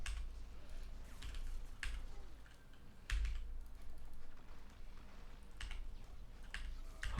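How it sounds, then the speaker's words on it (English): A mechanical computer keyboard clatters under quick, uneven typing, with dense close key clicks and a few brief pauses, faint against a quiet room. "So I would separate my keyboard sounds from the rest of my audio mix."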